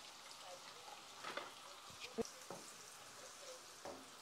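Onions sizzle faintly in a pan while gizdodo is cooked, a soft steady frying hiss with occasional clinks and stirring taps, quiet and close.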